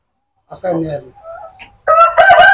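Close, loud calls from Tiger breed farm chickens: a cackling cluck followed by a brief pause, then a strong rooster crow, with a few softer clucks between.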